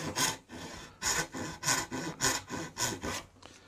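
A hand saw cuts oak clamped in a vise, giving about eight rhythmic rasping strokes with short pauses between them, close and fairly quiet, with no voices.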